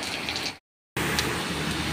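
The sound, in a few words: rain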